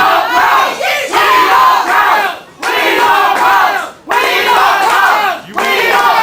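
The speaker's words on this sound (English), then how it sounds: "These people can sit here and cheer all they want." A wrestling event crowd roars in loud, sustained bursts of cheering and chanting, several waves each lasting a second or more, separated by brief dips, close and filling the hall.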